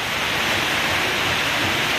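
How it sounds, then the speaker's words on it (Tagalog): Steady, dense rain with a constant broadband hiss, close and loud, with no talk over it. "Umuulan ngayon dito sa amin."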